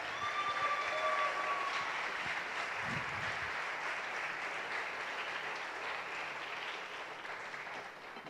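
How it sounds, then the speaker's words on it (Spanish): A church congregation claps together in sustained applause that stays fairly even and moderately distant, tapering slightly toward the end. "denle un fuerte aplauso al Señor"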